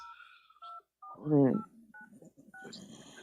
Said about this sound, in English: I'll ring him up, see if his phone's working.